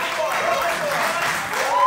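Crowd at a KLASK World Championship match applauding and cheering steadily, a broad wash of claps and voices with a commentator talking over it.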